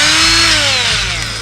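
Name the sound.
Milwaukee cordless 90-degree die grinder running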